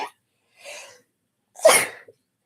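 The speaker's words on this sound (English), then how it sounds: "Hold on, I'm about to sneeze." A single close sneeze bursts out after a couple of quick preparatory breaths, followed by a faint catch of breath.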